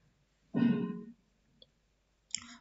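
A computer mouse clicks on a website link, with two or three short, sharp taps spaced apart in a quiet room.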